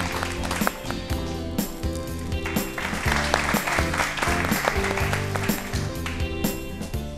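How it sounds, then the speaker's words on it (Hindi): Loud, sustained applause from a quiz audience, continuous throughout, with music playing underneath. "तालियां बजाइए"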